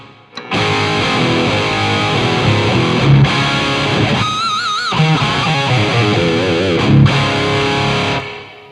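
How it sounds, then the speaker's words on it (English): Distorted electric guitar through a Kemper profile of an EVH 5150 III amp with reverb on, a steady loud stretch of chords and sliding bends lasting several seconds before fading out. "I just turn a reverb on to hear what the amp sounds like with reverb."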